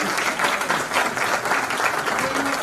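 Sustained applause from a crowd, dense steady clapping that carries on throughout without a break.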